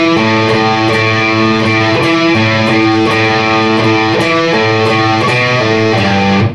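Distorted electric guitar plays bars 5 and 6 of a riff, a steady run of chugging sustained notes that changes pitch every half second or so, loud and continuous with no talking over it.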